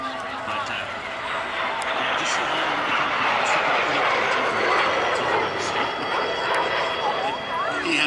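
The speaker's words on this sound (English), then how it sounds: "Watch what Greg and Scratch do to help slow this airplane down." A T-33 jet trainer flying at a military airshow at MCAS Miramar makes a continuous, loud engine roar and rush that holds steady throughout, with an announcer talking over it.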